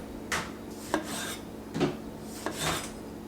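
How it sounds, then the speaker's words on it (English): A sharp knife slices through valley-grown tomatoes on a cutting board, giving four crisp, separate cuts with soft rasping between them. The sound is close but fairly quiet. "these tomatoes, which are from the valley, I'm just going to slice them."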